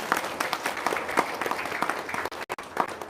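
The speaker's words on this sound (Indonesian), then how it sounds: "Tepuk tangan dulu dong." A seated audience at a religious talk claps briefly, a light, uneven patter of hands that is moderately faint and thins out toward the end, with no speech over it.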